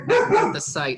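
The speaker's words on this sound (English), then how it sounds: "That's my dog." A pet dog at home gives a couple of quick, close barks that cut over a man's speech.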